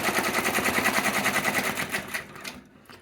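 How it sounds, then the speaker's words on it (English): An embroidery machine stitching an elastic placement line in the hoop, a close, loud, fast even needle rattle that runs steadily and then slows and stops near the end. "you can just keep going and stitch the placement for the elastic shape for your tab"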